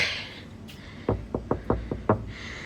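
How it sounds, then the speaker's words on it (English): Six sharp knocks on the door of a holiday guest house in Mozambique, near and fairly loud, in an uneven rhythm over faint background hiss, with no talking. "Knock, knock, knock."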